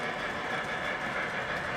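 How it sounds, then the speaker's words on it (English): Model trains run on foam road bed in a steady, continuous rolling rumble with a faint clickety-clack, moderately close and unbroken, with no voices over it. "I feel like it really cuts down on the howling noise the trains make, or the roaring"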